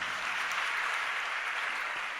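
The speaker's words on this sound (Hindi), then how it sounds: "अब देखो, ताली भी बज रही है" Steady applause from a group of girls at a gathering, dense continuous clapping with no voices over it.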